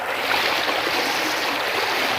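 Heavy floodwater rushes through a farm field in Bah Tonang, Simalungun, a dense, continuous roar of flowing water with no breaks, steady and fairly loud.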